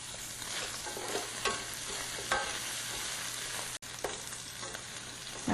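Green onions sizzle in a pan as they are stirred for a quick cook while bata yaki is being made. Soft, steady frying hiss sounds close by, with scraping stir strokes and a brief dropout near the end, and no talking.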